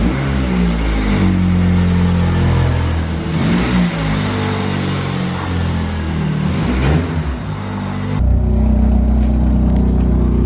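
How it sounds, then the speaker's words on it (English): A Mitsubishi Eclipse engine runs loud and close with a deep, throaty rumble through a new exhaust, revving up a couple of times before settling back. "let's go ahead and fire up the car and hear how it sounds for the first time with the new exhaust"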